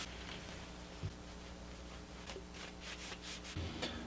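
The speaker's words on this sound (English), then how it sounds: "with all the surfaces thoroughly enough wiped down" Cloth wiping over vinyl-wrapped BMW E46 M3 trim pieces, soft close rubbing strokes repeating irregularly, faint and steady with a few light knocks.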